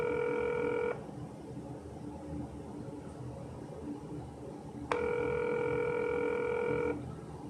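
An outgoing telephone call rings back to a congressional office: two steady ringback tones, each about a second then two seconds long, separated by a pause, alone and fairly clear.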